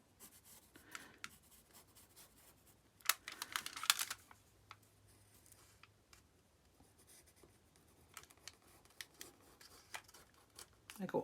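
Scissors snip through junk mail paper being cut into an envelope shape, with soft crisp cuts in short bursts and paper rustling, all quiet and close.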